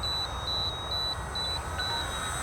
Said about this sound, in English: So there's my timer going off.